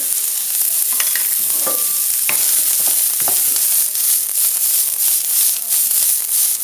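Aromatics fry loudly in smoking hot oil in a pan, a dense close sizzle with scattered crackles and pops and the scrape of stirring throughout; no one speaks.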